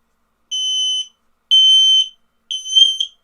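An X-Sense WS01-WT wifi smoke detector being tested sounds three loud, piercing alarm beeps, each about half a second long with even gaps, ringing alone in a quiet room.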